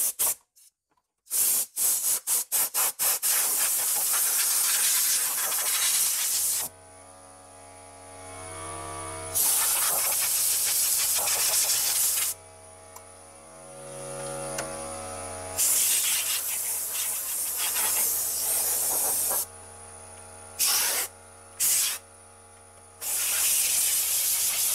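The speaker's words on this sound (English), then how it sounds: "I've got a nice handy air compressor with a little air gun, so this will do the job quick smart." Bursts from a small air gun on an air compressor blow dust off a Commodore 64 power supply: sharp repeated hissing blasts, some short and rapid, others long, with a motor hum in the pauses.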